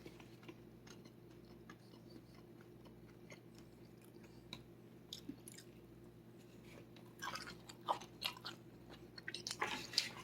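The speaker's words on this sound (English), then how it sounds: "I know you guys can hear that crunch." Quiet crunching and chewing on carnivore tostada shells topped with chicken and cheese, irregular crisp bites ticking along close to the microphone, growing louder and denser toward the end, with no talking.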